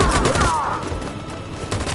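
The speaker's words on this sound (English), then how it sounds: "We can't move forward! That machine gun is taking" Machine gun fire in the video game Detroit: Become Human, a loud rapid rattle of bursts with sharp cracks that stays up front for the whole stretch.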